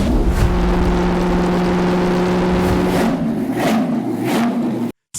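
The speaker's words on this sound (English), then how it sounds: "This has a 6-litre supercharged V16 in the middle, and it sounds like this." A mid-engined Audi supercar's 6-litre supercharged V16 revs hard and close, a steady roaring drone swelling through several throttle blips before cutting off abruptly near the end.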